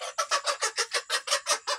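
Chickens at a farm breeding area give about ten rapid, evenly pulsed clucking calls in close succession, near and fairly loud, with no talk.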